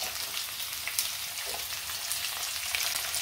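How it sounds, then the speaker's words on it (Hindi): Onions frying in a pan with garlic and chili give a continuous, even crackling sizzle up close, with no voices over it. "अब प्याज को 5 मिनट तक भून लेते हैं।"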